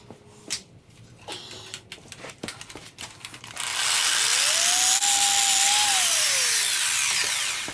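Engine piston tops are being cleaned with a power tool that first gives scattered clicks and handling knocks, then starts and runs as a loud steady whir whose pitch rises and falls, close by and with no talking.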